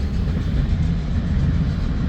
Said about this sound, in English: This is the first train I've seen since I've been here.